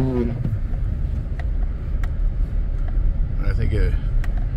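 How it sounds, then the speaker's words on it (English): A GMC Yukon sits idling with its heater running on a snowy farm, a steady low engine rumble holding close and even throughout, with a voice briefly audible over it. "I'm just going to take this Yukon down there, keep the heater running"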